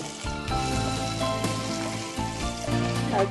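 Onions fry in a pan after cumin seeds, giving a steady sizzle beneath louder background music that runs through the whole stretch.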